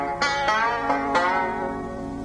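Banjo notes whose pitch is bent with Scruggs tuning pegs: several plucked attacks ring out and glide into sustained, slightly shifting tones, close and clear, with no talking.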